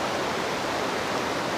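River water rushing steadily during a river crossing on the trek toward Roraima in Venezuela, a constant close, dense hiss of flowing water with no talking.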